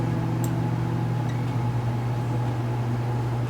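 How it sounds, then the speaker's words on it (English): Home heater running steadily in the background, a constant low hum and airy whoosh at moderate level with no one speaking. "that's the reason why you're hearing the heater in the background"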